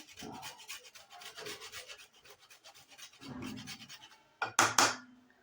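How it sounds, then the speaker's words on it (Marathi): Whole nutmeg grated by hand over carrot halwa, a series of short raspy scraping strokes close up, followed by a couple of louder knocks at the end. "थोडंसं जायफळ खिसायचं आहे"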